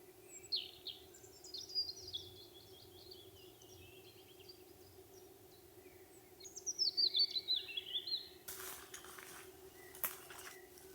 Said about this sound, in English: The birds are singing so beautifully.